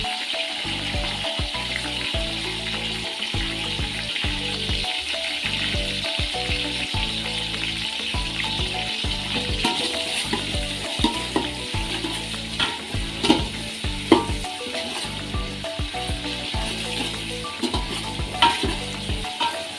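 Onions fry with ginger garlic paste in a pan, giving a steady sizzle under a rhythmic run of spatula scrapes and stirring taps that grows busier toward the end.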